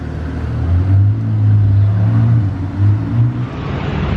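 A Harley-Davidson motorcycle rumbles past on a residential street in Monaco, a loud, deep engine drone that swells, eases, then swells again with a throttle blip, with no talk over it.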